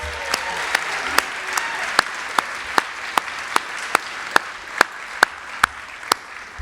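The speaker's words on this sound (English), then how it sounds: "Please give them a round of applause." Steady rhythmic clapping for inductees at a ceremony, individual sharp claps at an even pace about twice per second over a soft crowd murmur, sounding like one or a few clappers near the microphone rather than a full hall.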